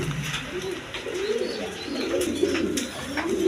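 A pair of Sirazi pigeons of Lahori type coo steadily and close by, low rounded calls rising and falling in repeated phrases with faint chirps and background noise.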